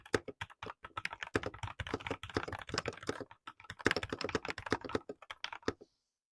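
A Yunzii YZ84 Pro mechanical keyboard with Gateron Brown switches is typed on steadily for about six seconds, giving dense, close, crisp key clacks in quick irregular runs before falling silent.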